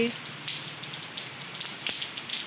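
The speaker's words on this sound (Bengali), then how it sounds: "দেখুন কত সুন্দর বৃষ্টি পড়ছে" Steady patter of rain falling on surfaces, soft and continuous with scattered droplet ticks, heard at moderate distance with no voices.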